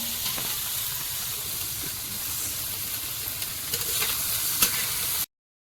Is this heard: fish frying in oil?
yes